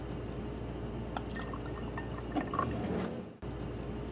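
Jones cream soda poured from a bottle into a glass holding an absinthe drink, a steady close liquid pour with a few splashy drips that stops abruptly near the end.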